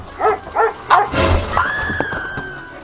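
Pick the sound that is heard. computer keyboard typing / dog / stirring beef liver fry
dog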